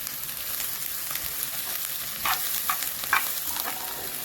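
Minced meat with tomatoes and peppers fries in a pan with a steady, dense sizzle. A few louder scraping stirs break through it.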